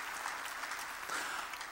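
A church congregation claps together in a sustained burst of applause, a dense, even patter of many hands lasting almost two seconds under faint background murmur.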